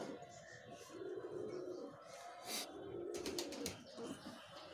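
Andhra line pigeons coo softly in several low, throaty bursts, close by and fairly faint, with a few light bird sounds and some shuffling between the calls.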